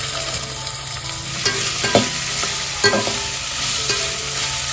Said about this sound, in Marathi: कांदा घालून घेते